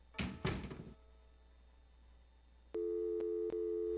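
Telephone busy signal in the Gabriel Knight: Sins of the Father adventure game: a couple of dull handset thunks, a quiet pause, then a loud steady tone that briefly breaks twice.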